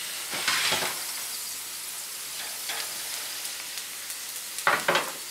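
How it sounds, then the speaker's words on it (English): Chicken breasts flipped in a hot cast iron pan make a steady quiet sizzle with a few sharp bursts of frying and scraping as each piece is turned, close and alone. "Take them out and flip them."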